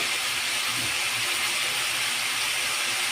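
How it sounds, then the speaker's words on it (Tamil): Brinjal sautéing with turmeric in a hot pan, along with raw plantain pieces, gives a steady, even sizzling hiss that holds at one level throughout with no voices. "அதையும் நல்லா வதக்கி விட்டுக்கலாம்."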